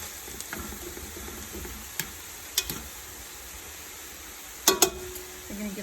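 Chicken pieces cook in a pan for a kale and vegetable soup, a soft steady sizzle underneath occasional sharp clinks and scrapes of a utensil against the pan.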